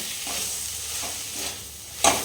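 Chicken pieces with masala fry in a pan for Bengali chicken kosha, a steady close sizzle with soft stirring strokes and a sharp clink near the end.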